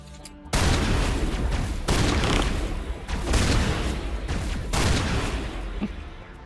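Sustained heavy gunfire from the video game Mass Effect, including shotgun blasts, comes as loud, dense bursts separated by short breaks, each roaring near and harsh without talk.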